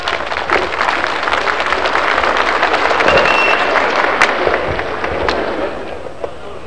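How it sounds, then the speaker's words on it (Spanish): Crowd applause mixed with crackling fireworks or firecrackers at an outdoor civic gathering in Sacaba, Cochabamba, Bolivia, as the municipal mayor is welcomed; a steady dense roar of clapping runs throughout, punctuated by sharp pops and bangs. "Sánchez, recibamos con este aplauso, por favor."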